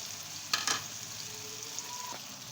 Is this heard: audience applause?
no